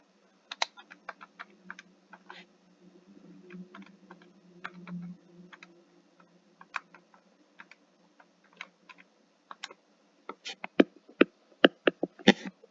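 Calculator buttons pressed in scattered taps, then a quicker run of sharper clicks near the end, heard close and fairly quiet under a low background hum with a faint voice.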